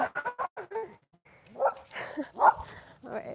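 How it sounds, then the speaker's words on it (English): Dogs bark in a rapid run of several sharp yips, followed by a short pause and then a few louder, fuller barks and whimpering yelps, all fairly close by. "I always get so scared when other dogs bark"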